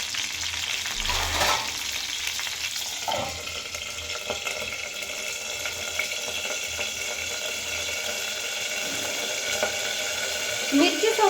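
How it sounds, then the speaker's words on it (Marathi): Green chillies fry in oil under a lid for a village-style chilli thecha, a continuous muffled sizzle with a couple of clattering knocks, close and fairly loud throughout. "तर मिरची तळताना हे तेल जे आहे ते आपल्या अंगावर उरेल म्हणून आपण यावर थोडे दोन मिनिटे झाकण ठेवून घेणार आहोत"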